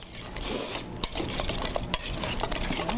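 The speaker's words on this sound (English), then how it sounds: "So we're going to whisk that together again." A whisk stirs a parsley and lemon filling in a bowl, producing quick, close scraping and tapping strokes with a few sharper clinks against the side, heard alone without talk.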